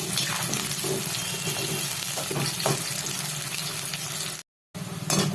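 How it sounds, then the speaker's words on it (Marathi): Onions fry in hot oil in a kadhai, giving off a loud, steady, hissing sizzle that cuts out briefly near the end before resuming. "चांगला हा तांबूस कलरचा होईपर्यंत मी ह्याला तळून घेणार आहे."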